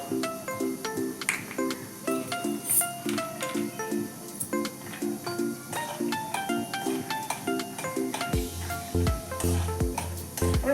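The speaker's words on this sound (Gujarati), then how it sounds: "બે ચમચી જેટલા મેં સિંગદાણા લીધા છે એને થોડા સાતરી લઈશું" Steady crackling sizzle of peanuts in hot oil in a pan with frequent clinks and stirring scrapes, a low rumble joining near the end; no talking.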